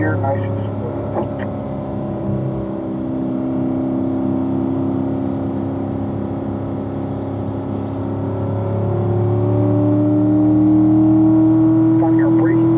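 A car accelerates smoothly up through the gears on a race track, its engine drone climbing steadily in pitch, heard from inside under a calm voice of instruction.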